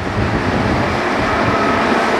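An amusement park ride train at Tivoli in Copenhagen rolls past with a loud, steady rumble and a continuous rail clatter throughout, with no voices.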